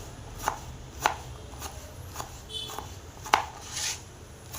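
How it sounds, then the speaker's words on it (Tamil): Bottle gourd being finely chopped with a knife on a board, sharp close knocks arriving irregularly about every half second to second over a quiet background, with no talking. "இப்போ இதை பொடியாக கட், உங்களால் எந்த அளவுக்கு பொடியாக கட் பண்ண முடியுமோ"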